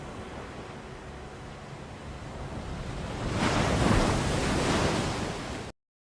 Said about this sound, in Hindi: तो ये जो इसमें पानी की आवाज़ थी बेसिकली वो पहले से ही आपके पास यहाँ इन होनी शुरू हो गई